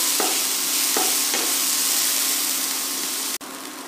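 Chopped onion and tomato sauté in a pan with a steady, broad hiss of sizzling oil, broken by a few soft scrapes of stirring near the start, then a brief dropout near the end.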